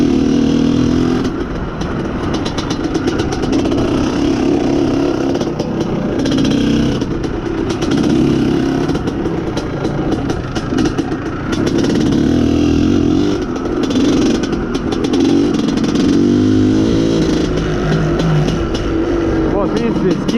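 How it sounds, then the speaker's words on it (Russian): An Izh Planeta Sport motorcycle engine running a lean fuel mixture drones loudly and continuously up close, its note sagging and faltering as the throttle is let off between rises. "Вот видите, скидываю сейчас газ. Он сразу начинает глохнуть."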